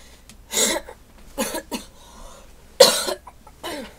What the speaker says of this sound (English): My cough is sucky.